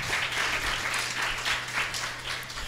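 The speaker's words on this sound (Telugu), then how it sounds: "చప్పట్లు కొడదాం గట్టిగా." A church congregation claps loudly during a sermon, producing a dense, continuous burst of applause with no pause.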